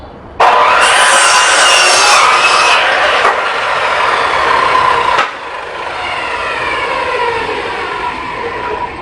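A handsaw cuts wood for a dog kennel in loud, close, rhythmic back-and-forth strokes that pause briefly and then continue with a lighter, steadier rasp.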